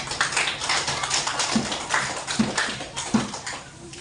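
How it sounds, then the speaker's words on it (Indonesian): Scattered, uneven applause for a group after a classroom discussion, heard as a loose patter of claps that comes in bursts and then thins out over a few seconds. "kita kasih aplaus dulu untuk kelompok 2"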